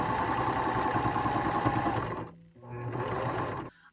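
A sewing machine stitches over a fabric face mask, its steady whirring motor running loud and close for about two seconds, stopping briefly, then running again before cutting off.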